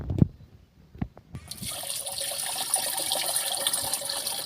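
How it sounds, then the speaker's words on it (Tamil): Water is poured into a sprayer can for treating jasmine plants, starting after a few soft knocks and becoming a steady, close trickle and gurgle of filling liquid that lasts to the end. "ஸோ இப்போ தண்ணி இதில் ஆட் பண்ணிக்குவோம்."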